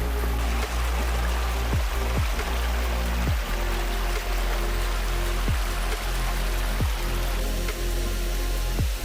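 A river flowing along the Brown Trail in Stokes State Park, New Jersey, a dense, steady rush of water with a few low thumps, continuous and fairly near, with no talking.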